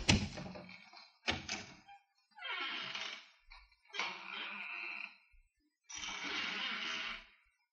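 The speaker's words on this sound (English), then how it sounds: "I'll step outside the office and close the door and then open it again." Office door effects from an old-time radio detective drama: several distinct thunks, latches and sliding door movements, a sharp knock-like hit at the start followed by separate handling and closing sounds, near and clear with no talk.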